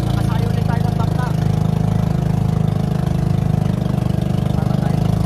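A loud, steady fishing boat engine drones at an even pitch throughout, a constant low rumble with no pauses.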